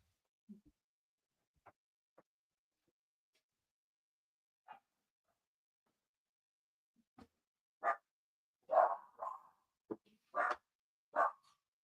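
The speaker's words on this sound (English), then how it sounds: "my dog was barking" A dog barking indoors, sparse faint yips at first, then a run of louder sharp barks spaced about a second apart toward the end.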